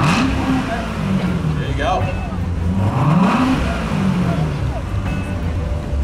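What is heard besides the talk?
sports car engine revving in sport mode, Z07 package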